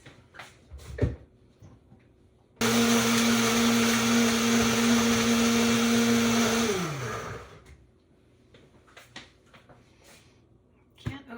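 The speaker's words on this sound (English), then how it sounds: "we're going to go over to our Vitamix" A Vitamix blender purees black bean chili with liquid, a loud steady whirring roar that runs about four seconds and then winds down in pitch, with quieter kitchen clatter before and after.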